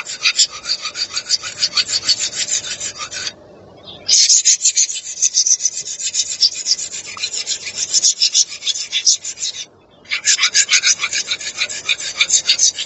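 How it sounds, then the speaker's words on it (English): A blade is sharpened with a file or stone in long, steady rasping strokes that scrape loud and close, stopping briefly twice before starting again. "Oh, we gotta sharpen it."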